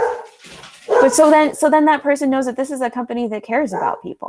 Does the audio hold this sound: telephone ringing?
no